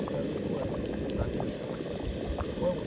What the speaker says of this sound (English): Just gonna let that start to do its thing. Boil off some of this water.